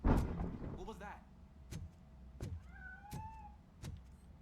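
A cat meows in a video game, with a couple of brief rising meows standing out amid sharp game clicks and thumps and a voice speaking earlier.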